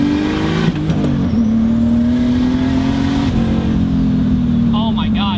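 A single-turbo BMW 328is engine pulls hard and loud up through the gears. Its steady drone climbs in pitch, drops at each shift and climbs again, with the turbo whining in the background.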